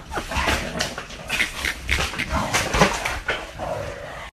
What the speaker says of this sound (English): Who's a good-looking dog?